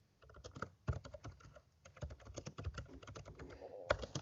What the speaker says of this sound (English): I forgot to mute while I was typing